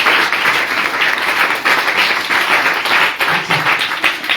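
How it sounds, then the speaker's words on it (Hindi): A church congregation claps loudly together during a Hindi-language worship service in Mumbai, a dense, sustained wash of hand claps with no voices over it. "एक बार ऊंचे से ताली बजाएंगे हम सब लोग"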